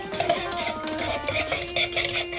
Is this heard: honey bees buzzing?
no